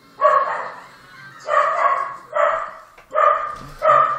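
A dog barks five times in a loose rhythm, each bark a close, loud, slightly whiny woof separated by brief pauses.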